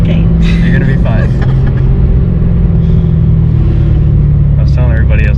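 A 2017 Lexus RC F cruising, its engine a steady low rumble with road roar inside the cabin, continuous and loud, with people talking over it.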